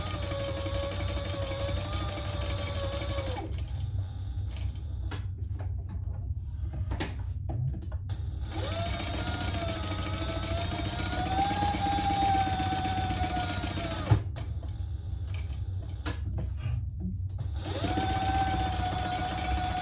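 A sewing machine stitches around three sides of a bag, whirring in several long bursts of steady motor hum and needle clatter, separated by short quiet pauses.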